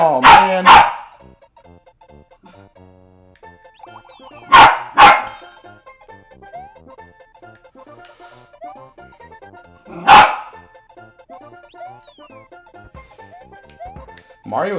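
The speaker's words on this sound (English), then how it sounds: "I'm sorry if my dog's barks are picking up on the audio here." A pet dog barks in loud bursts of two or three at intervals, close by, over quiet electronic game music from a Mario game playing in the background.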